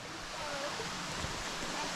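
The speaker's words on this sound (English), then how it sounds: "Look at that waterfall right there." A waterfall on a creek trail near Zlaca, Banovici, roars as a continuous broadband rush of falling water, steady and fairly close.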